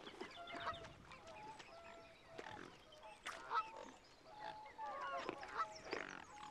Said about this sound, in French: Des cygnes, oui, de beaux et grands cygnes.